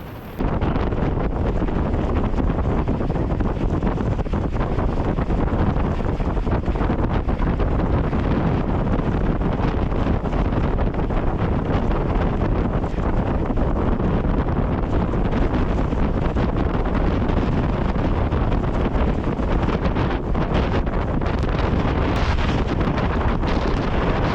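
Blizzard wind batters a Hilleberg Jannu four-season tent in a winter ground blizzard, a loud, unbroken roar with constant flapping and rattling of the fabric that never lets up.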